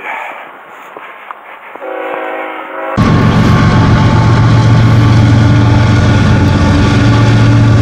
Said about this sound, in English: You see now the train's coming.